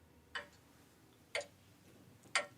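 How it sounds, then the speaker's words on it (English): Three slow, evenly spaced ticks from a grandfather clock, about one second apart, crisp and close in a quiet room. "I was listening to the grandfather clock."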